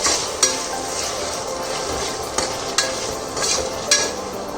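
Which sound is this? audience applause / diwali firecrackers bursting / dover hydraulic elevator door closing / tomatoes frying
tomatoes frying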